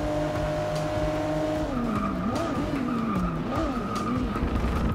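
A race car in Forza Motorsport 6 brakes hard for a corner, tires squealing in long wavering screeches over a steady engine drone.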